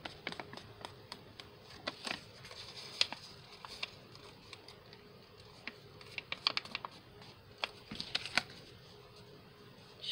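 Paper envelope side flaps being folded inward by hand for a small handmade card envelope, a run of soft, close crinkles, creases and light taps with brief sharper snaps, without talk.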